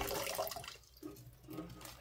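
Tap water runs into a bucket or tub, roughly 1.5 gallons, for mixing soda ash for tie dye; a steady close splashing flow fills the clip, thinning briefly near the middle before surging again.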